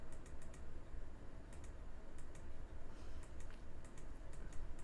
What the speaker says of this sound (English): I believe we're just typing in the chat right now